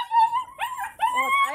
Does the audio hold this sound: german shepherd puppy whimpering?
yes